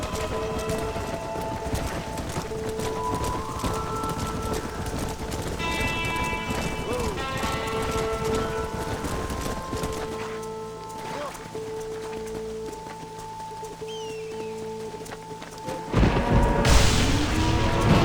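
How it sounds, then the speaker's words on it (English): Spooked horses stampeding in Red Dead Redemption during bad weather, a dense, continuous drumming of galloping hooves with whinnies and neighs over a musical score, loud and close, building to a louder crashing rush at the end, with voices talking. "They're spooked! We have to stop them stampeding!"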